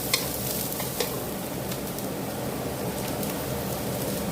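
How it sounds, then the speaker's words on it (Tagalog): Food sautéing in a pan at home, a steady close sizzle with light stirring scrapes and a few brief clicks, no talking. "Ito guys ay igigisa ko lang."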